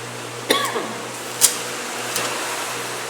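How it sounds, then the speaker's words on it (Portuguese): A few short coughs and throat-clearing bursts, spaced apart, over a low steady hum of room noise. "Essa tosse é muito chata"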